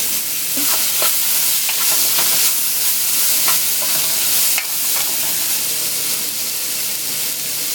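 Green pepper, onion, tomato and scallion fry for Jamaican curry shrimp, giving a loud, steady sizzle throughout with occasional clicks and scrapes of stirring.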